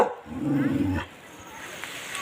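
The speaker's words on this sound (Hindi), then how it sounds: "और यहाँ भौंक रहा है उसको देख के" A dog in a village barks and whines at a cat perched high on a rooftop, a short close burst of yelps in the first second, then only quiet outdoor ambience.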